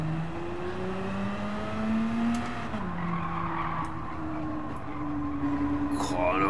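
Porsche Carrera GTS (904) racing car on the Nürburgring, its engine note rising and falling steadily through gear changes at close range, with tyre squeal mixed in and no talking.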